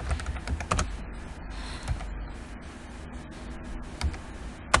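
Typing on a computer keyboard while entering a reason, irregular bursts of close, crisp key clicks with short pauses between them, a few louder taps standing out, and no talking.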